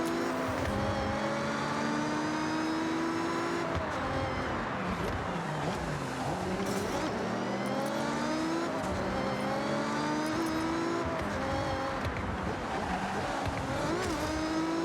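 Race car engines roar through a Forza Horizon 6 video game race, several cars revving and shifting close together with rising and falling pitch, loud and continuous throughout.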